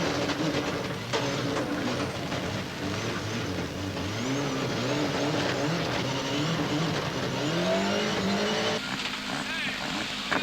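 A Toyota Group A rally car, driven by Freddy Loix at the 1996 Rally Boucles de Spa in Belgium, roars loudly along the stage, its engine note rising and dropping through repeated gear changes and revs.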